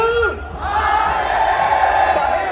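A crowd at a Ganesh arrival procession in Vadodara chants together in a loud, sustained roar, voices blending into a long shout close by.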